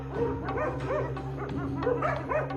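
Several dogs bark and yip insistently at a hyena, overlapping barks and whining yelps coming in steady bursts over a constant low hum, fairly close and loud.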